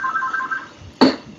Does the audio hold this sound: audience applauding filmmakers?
no